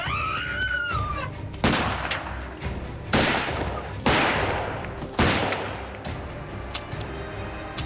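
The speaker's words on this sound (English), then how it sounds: "She sat up and pointed the gun out the window and fired and kept firing." Several loud gunshots fired in quick succession from a car window, sharp blasts spaced about a second apart with echoing tails, opening over a faint whistling tone.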